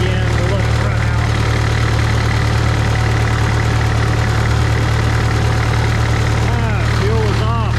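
A Farmall MD tractor engine runs steadily on gasoline, a loud continuous low idle with a knocking rhythm throughout.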